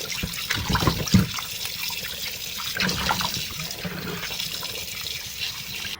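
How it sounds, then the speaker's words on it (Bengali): Running water pours steadily while fish is rinsed clean, a continuous close splashing gush with a few louder sloshes near the start and no talk. "তো মাছ এখন আমি ক্লিন করব।"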